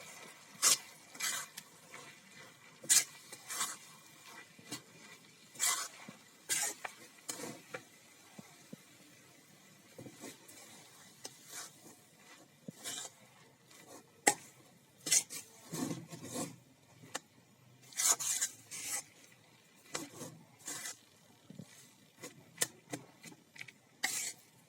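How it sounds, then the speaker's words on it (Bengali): Flour and half-boiled raw potatoes are scraped and stirred in a pan over a low flame, giving intermittent rasping, scraping strokes in an uneven rhythm, fairly close and moderately loud with no talking. "আর এইভাবে নেড়ে নেব"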